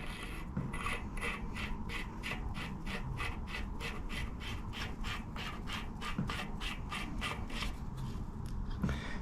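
An internally threaded part being screwed onto a sprocket shaft in a workshop, giving a steady run of rapid, even rasping clicks close by, like a ratcheting thread turning, with a few louder knocks.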